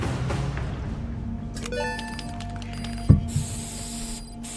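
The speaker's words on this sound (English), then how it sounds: "Hang on, gotta spray paint this." Spray painting in the video game Metal Gear Solid V: a hissing spray followed by clicking mechanical and electronic effects, a sharp thump partway through and a bright hiss near the end, with no talking.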